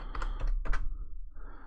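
A short flurry of keystrokes on a computer keyboard, close and fairly soft, taps out a few quick clicks and then stops.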